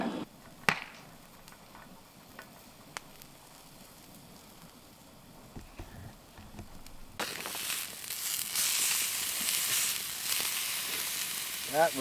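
Steak cooking beside a covered cast iron pan at an overnight winter campsite, quiet outdoor stillness with a few sharp clicks, then a broad hissing sizzle rising and holding for the last several seconds.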